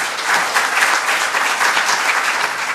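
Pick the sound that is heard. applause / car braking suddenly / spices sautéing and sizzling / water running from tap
applause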